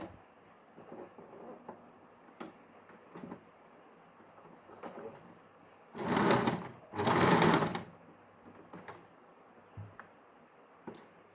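Domestic sewing machine stitching lace trim onto a suit, two short whirring bursts of stitching close by against quiet room background with scattered small handling clicks.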